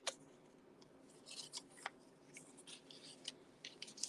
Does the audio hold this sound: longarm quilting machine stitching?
no